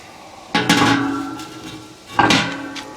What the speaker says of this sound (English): let's take the lid off of this pit barrel